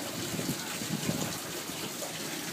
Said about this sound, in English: He's got a hose running on my gutter on the roof.